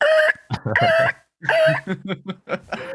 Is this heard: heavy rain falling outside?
no